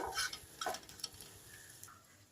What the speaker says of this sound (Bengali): এটাকে আমি উল্টে পাল্টে হালকা ভেজে নিচ্ছি। দেখুন কীরকম আওয়াজ হচ্ছে, কড়কড়ে হয়েছে।